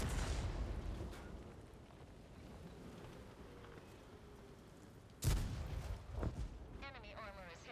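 Artillery fire in a tank video game: a low distant rumble that fades, then a sudden loud blast followed by a tail of shorter bursts and a rising whine, with a player talking faintly underneath.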